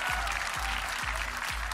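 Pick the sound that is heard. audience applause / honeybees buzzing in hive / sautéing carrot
audience applause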